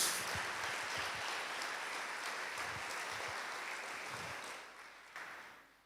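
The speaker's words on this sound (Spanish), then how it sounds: "¿Se anima a darle un aplauso a la palabra?" Church congregation applauding during a sermon, a faint, distant wash of clapping that holds steady for several seconds before thinning out.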